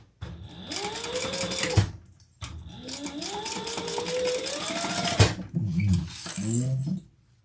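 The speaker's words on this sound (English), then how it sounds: "now we're going to sew that together and then turn it in top stitch." A sewing machine stitches fabric pieces together in two long bursts of steady, rapid whirring motor hum, the speed audibly rising, separated by a brief pause; a few soft handling clunks follow near the end.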